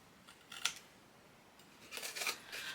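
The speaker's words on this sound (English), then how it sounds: "I'm just putting my scissors up against the edge of the chipboard and cutting straight out" Scissors cut straight into the edge of a chipboard sheet for a paper-craft folio, giving two short crisp snips, then a longer crunchy cutting run near the end, close and fairly quiet with no talk.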